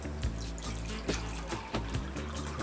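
Distilled water pours into a small Sea Monkeys tank, a steady close splashing stream with rhythmic glugging surges from the container, continuous and fairly loud without speech.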